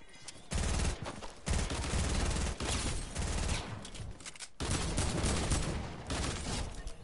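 Fortnite gunfire in loud sustained bursts, rapid automatic shots filling nearly the whole stretch with a few brief pauses between volleys, close and dominant.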